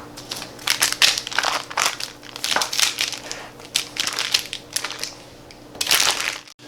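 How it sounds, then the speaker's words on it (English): Plastic wrap being pulled off a log of almond biscotti dough, a close, busy crinkling and crackling in irregular bursts throughout, with no talking. "So now we're just going to unwrap it"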